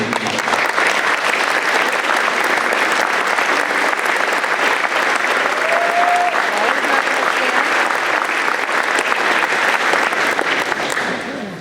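An awards-night audience gives sustained applause for departing school staff, a thick, continuous round of clapping that holds steady for over ten seconds before easing slightly at the end, with a brief voice partway through.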